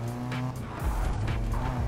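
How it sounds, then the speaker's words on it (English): Nissan Silvia sliding through a drift in a Need for Speed racing game, engine roaring loud and close with tire squeal layered over it, a brief continuous burst with no voices. "I can notice that this car really wants to go drifting"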